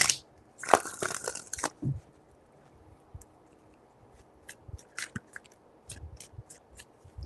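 Tarot cards being shuffled, a dense papery riffle and crunch for about two seconds near the start, then scattered soft taps and card handling.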